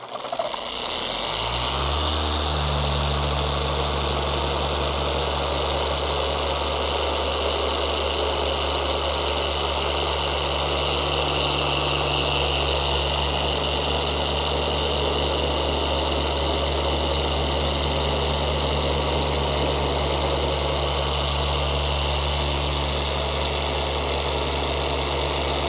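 Machine polisher with an all-in-one pad working soft black car paint, a steady loud motor whine and hum that starts up and holds unbroken throughout.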